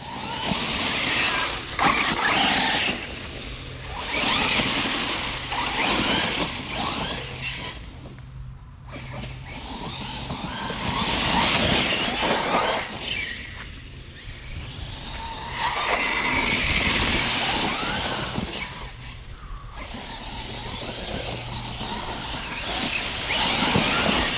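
An Arrma RC car drives through a patch of leaves outdoors, giving rustling, crunchy bursts of texture over the whine of its electric motor, surging and easing in several passes.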